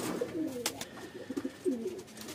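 Pigeons kept in a loft coo softly in short repeated rolling phrases, several birds close by over a faint room background, with no talk.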